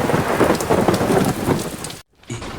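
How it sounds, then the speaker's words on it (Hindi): Heavy rain pours steadily during a thunderstorm with rumbling thunder mixed in, a dense, loud wash of sound that cuts out abruptly near the end before resuming. "इस तूफान में कैसा होगा मेरा जुगनू?"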